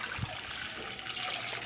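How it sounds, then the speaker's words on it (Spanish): Corn water is poured into a small pot in the kitchen for making purple rice: a brief, steady close trickle of liquid with no talking. "Las vamos a poner acá en la ollita."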